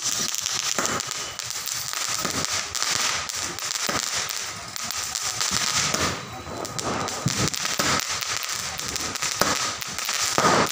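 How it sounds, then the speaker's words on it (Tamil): Continuous crackling bursts and pops of firework rockets go off outdoors, a dense, rapid stream of small explosions with no pauses. "இல்லப்பா, இது மாதிரி போகும் ராக்கெட்."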